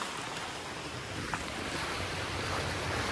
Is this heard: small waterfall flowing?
yes